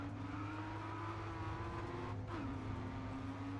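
A BMW race car drifting in the racing game GRID Autosport: a steady engine drone with a sustained tire squeal slurring up and down in pitch over continuous game audio, no voices.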